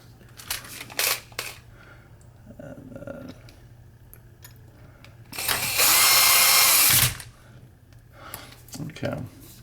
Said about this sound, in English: I might use the battery operated screwdriver. Okay, so just snug those up.